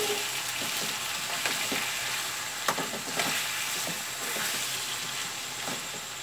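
Chicken frying in plenty of oil over a high flame for pepper chicken, a dense, steady crackling sizzle close by, with a few light spoon clicks and no voices.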